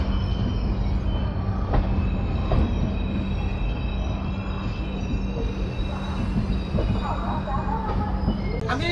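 The Dhauli Express between Puri and Shalimar runs at speed past Kharagpur, a steady loud rumble of wheels on track with faint clicks and a brief metallic squeal near the end.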